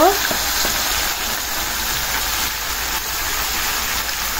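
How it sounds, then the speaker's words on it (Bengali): Chicken meat fries hard in a pan with a loud, continuous dense sizzle from start to finish, a brief sharper burst right at the beginning; no voices. "মাংস একদম ভাজা ভাজা করে কষাই নিলাম।"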